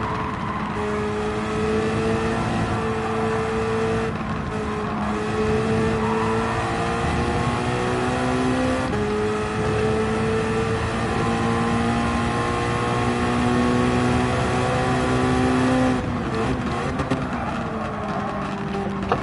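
Race car engine in Gran Turismo 7 at the Atlanta circuit, revving hard through the gears with repeated upshifts and a steady loud drone, continuous and close throughout, with no talking over it.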